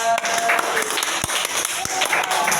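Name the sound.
students clapping hands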